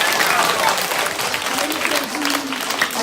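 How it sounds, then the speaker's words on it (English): Audience applause fills a hall at a college awards ceremony, a steady dense clapping that holds evenly throughout, with faint crowd murmur beneath. "Give her a clap as she's going, guys."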